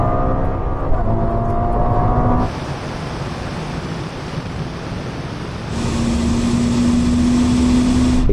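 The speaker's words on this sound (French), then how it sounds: "Cette Ferrari vient de décoller." A Ferrari SF90 in a rolling drag race against a Tesla Model X Plaid and a Lamborghini SVJ, heard as a steady roar of engine and rushing wind noise that swells and shifts, with a rising tone near the end.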